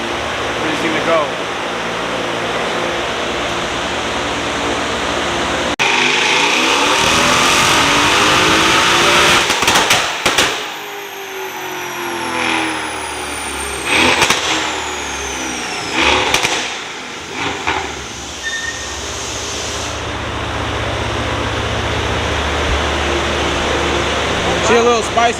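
A tuned Mercedes-AMG C63S with Pure turbos, on Weld rims and Toyo RR radials, roars loudly and continuously, with engine pitch sweeps and spinning-tire noise close by, as people talk over it.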